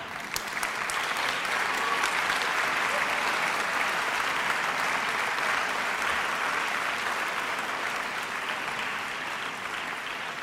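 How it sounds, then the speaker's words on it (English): A graduation ceremony audience applauds in a dense, steady roar of clapping that holds at an even level for the whole stretch, with no talking. "please rise, turn backward, and applaud to those who accompanied and supported you"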